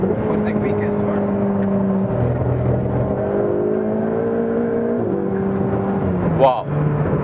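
Ferrari 488 GTB engine on a lap of the Fiorano circuit, a steady sustained drone with gear-change steps and a brief rise near the end, heard from inside the car with some talk over it.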